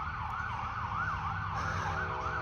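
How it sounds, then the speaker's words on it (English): A wailing siren rises and falls in steady cycles over a low engine rumble, fairly loud and continuous. "I'm hearing a siren."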